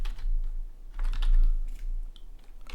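Computer keyboard typing, a steady run of soft, close key clicks in small irregular bursts over a faint low hum.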